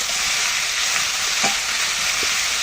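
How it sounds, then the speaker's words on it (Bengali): Potatoes seasoned with salt and turmeric fry in a kadai for a vegetarian soybean and potato dalna, giving a steady, close, continuous sizzle with faint stirring scrapes and no talk. "এই জন্য কড়াইতে আলু দিয়েছি"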